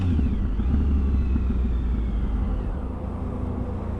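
A Triumph Sprint ST1050 motorcycle engine rumbles steadily at close range while riding, with a faint run of rapid popping in the low end during the first second or so, easing slightly toward the end.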